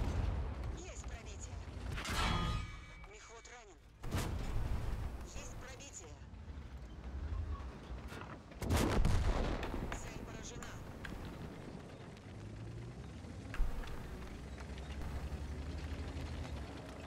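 Tank cannon shells firing in a tank battle video game, a few loud booming shots several seconds apart over rumbling engine and battle noise, with someone talking throughout.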